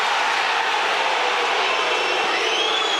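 Rugby stadium crowd at the 2008 All Blacks versus Munster match reacting to a knock-on call, a loud, sustained roar that fills the whole stretch without a break.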